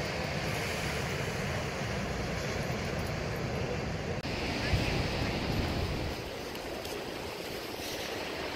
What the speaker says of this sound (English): I like the sound of the ocean though.